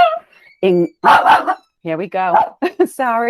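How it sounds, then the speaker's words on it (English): A pet dog barks several times in short yapping bursts close to the microphone, interrupting someone speaking at a school's virtual open house. "that's my dog"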